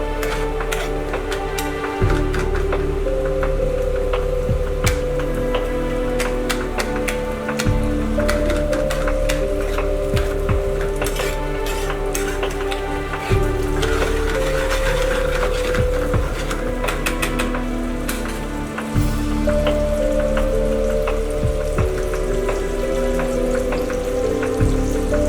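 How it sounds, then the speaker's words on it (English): Beef frying in a pan for a dopiaza curry: continuous loud, close sizzling and crackling spatter that holds steady throughout, with a low music bed underneath and no talking. "We're going to sizzle fry these for about 3 minutes."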